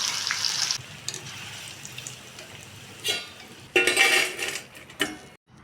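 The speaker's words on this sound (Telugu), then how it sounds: "ఇలా మొత్తం నూనెలో డైరెక్ట్గా వేస్తేనే చిప్స్ బాగా వస్తాయి" Raw banana slices frying in hot oil for chips, a soft sizzle broken by bursts of louder crackling and metallic clatter from a utensil against the pan.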